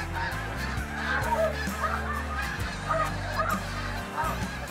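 Snow geese honking in big flocks during a hunt: a dense, continuous chorus of overlapping nasal honks, loud and close, with many birds calling at once.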